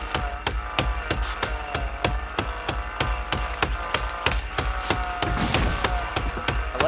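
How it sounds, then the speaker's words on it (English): Axe hacking at wood in the video game Sons of the Forest: a steady, fast series of sharp woody chops, roughly two or three per second, continuing for several seconds, close and clear with no voices. "It still makes a sound as if I'm, like, cutting it with an axe."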